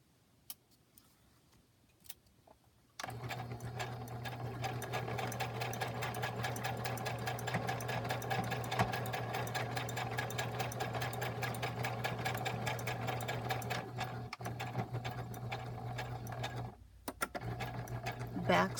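A sewing machine stitches lace pockets onto a journal cover, running steadily and loud from about three seconds to near the end, with a steady hum and rapid needle ticking, briefly pausing before a last back stitch.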